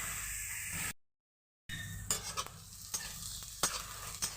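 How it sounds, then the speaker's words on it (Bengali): Onions fry in a pan for Mumbai-style kanda poha, a steady close sizzle cut off by a brief silence, then resuming with sharp scraping stir strokes of a spatula against the pan. "এবার আমি ভেজে নেব তবে খুব লাল করে নয়"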